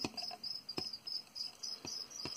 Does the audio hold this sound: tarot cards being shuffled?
no